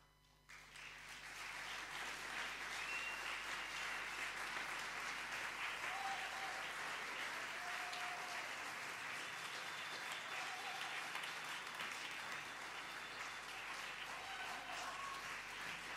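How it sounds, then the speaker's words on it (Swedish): Concert audience applauding a women's choir at a closing concert, a dense sustained wash of clapping that starts abruptly and holds steady and loud throughout, with a few faint tonal sounds above it. "Applåd för den eminenta kvinnokören!"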